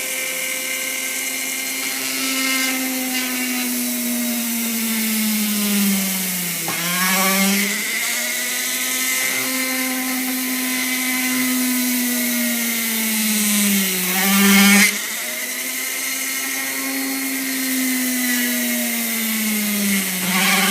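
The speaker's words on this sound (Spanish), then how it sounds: "hacer las 3 perforaciones de los puntos marcados que tengo ahí" Power drill boring holes through a homemade wind turbine blade for screws, with a bit matched to the screw diameter; a loud steady whine runs throughout, dipping and recovering twice as the bit pushes through, with no talking.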